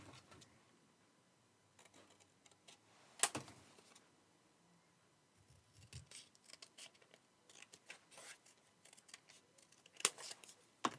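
Paper hand cut with scissors for a folded card: sparse, quiet snips and rustles with a couple of sharper crisp cuts, near and close-miked in a still room.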